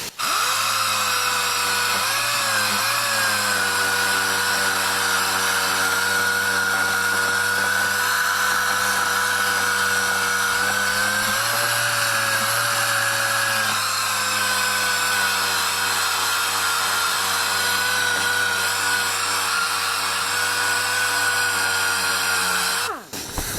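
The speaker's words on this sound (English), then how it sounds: "I'm going to take DA with some 180 and sand this old paint" A dual action sander fitted with 180 grit paper works over old paint on a 1989 Mustang GT, giving a steady, continuous whirring buzz that runs loud and unbroken for the whole stretch before cutting off at the end.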